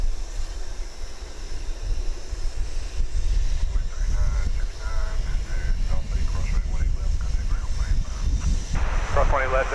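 A UPS Boeing 757 jet, flight 2791 from San Antonio, at DFW Airport, giving a loud, broad low rumble with wind buffeting on the microphone and some tonal engine whine.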